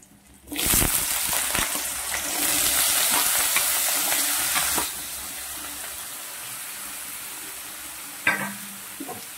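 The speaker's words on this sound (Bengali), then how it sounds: "এবার আলুগুলো ভেজে নেব।" Potatoes frying in a pan for a Bengali-style kolar thor dish give a sudden loud sizzle that surges, settles into a steadier hiss, then fades, with a brief clink near the end.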